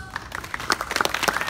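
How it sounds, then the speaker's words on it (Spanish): Audience applause at a resort recreational show in Royal Decameron Salinitas, El Salvador, with scattered distinct claps building into a denser patter over a short stretch, moderately loud and close. "que se escuchen los aplausos"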